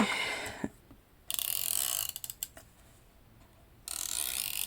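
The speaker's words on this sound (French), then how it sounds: "du scotch." Adhesive tape pulled off a roll in two long ripping bursts, with short crackling peels between them, close and fairly loud, no talking.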